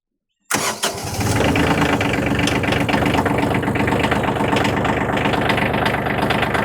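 Cold diesel engine on a newly bought piece of equipment with glow plugs cranks and catches abruptly, then settles into a loud, steady rumbling idle close to the microphone.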